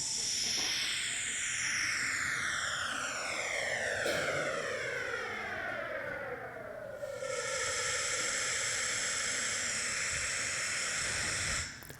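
Sonified early universe after the Big Bang, raised 50 octaves: a loud, continuous airy hiss with sweeping tones gliding downward, then a sudden shift to a brighter, steadier roar near the end, resembling a passing jet.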